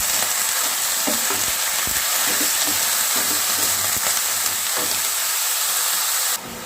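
Water lily flowers fry on a high flame, giving a loud, steady sizzle and hiss with scraping stirring clatter scattered throughout. The sound drops sharply near the end.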